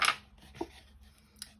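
Scissors snip card along score lines for a Toblerone-style gift box: one sharp close cut followed by a softer cut and a faint later snip, short and crisp with no talk.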